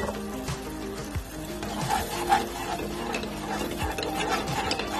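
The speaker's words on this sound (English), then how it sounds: "Just mix it up really well" A sauce with sherry cooking wine is stirred in a pan for pan-fried Cajun salmon. It gives close, continuous scraping and light clicking of a utensil in a steady, busy rhythm.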